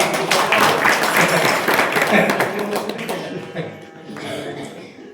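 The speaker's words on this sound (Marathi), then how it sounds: "यांच्यासाठी एक जोरदार टाळ्या वाजवा." Audience clapping fills a kirtan gathering at an Akhand Harinam Saptah in Wagdari, a dense, loud burst of many hands that thins out toward the end amid voices.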